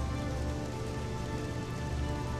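Heavy rain pours down in the video game Oblivion, a dense, loud, unbroken roar of drops close around a campfire, no voices over it.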